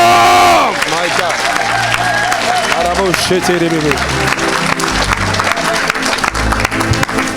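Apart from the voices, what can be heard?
church congregation cheering and applauding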